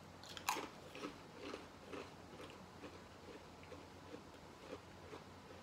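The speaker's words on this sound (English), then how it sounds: "You have a little bit more of a softer crunch than a regular potato chip." Quiet, close chewing of Rap Snacks sour cream and ranch potato chips, with soft crunches repeating roughly every half second over a low background hum.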